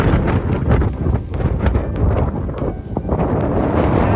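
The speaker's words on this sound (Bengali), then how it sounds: "এত হাওয়া দিচ্ছে, এত হাওয়া দিচ্ছে, কি বলবো।" Strong mountain wind on a Nilgiri peak near Ooty buffets the microphone in loud, continuous rumbling gusts with no pause throughout.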